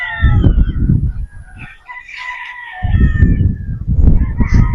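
Game fowl roosters crow on a game farm, several loud, strained calls overlapping close by with honking and clucking fowl in the background, and no talk.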